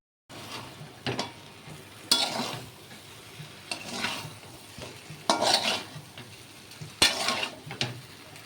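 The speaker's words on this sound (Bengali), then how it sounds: "এবার মশলাগুলোর সাথে ভালো করে আলুগুলোকে মিশিয়ে নিচ্ছি" Potato pieces for aloo dum being stirred and tossed with spices in a sizzling pan, with repeated loud scraping strokes of a spoon over a low frying hiss.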